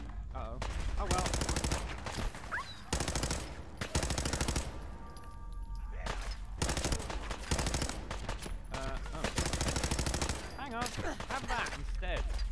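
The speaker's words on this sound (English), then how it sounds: "Right, we're gonna have to go in with that machine gun." Automatic machine gun fire from the video game Fallout 4 comes in several loud, sustained bursts separated by short pauses, with other game sounds between them.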